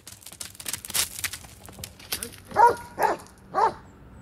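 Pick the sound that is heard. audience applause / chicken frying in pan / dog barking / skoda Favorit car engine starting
dog barking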